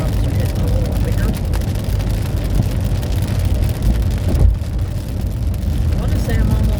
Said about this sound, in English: Raindrops are hitting a little bigger.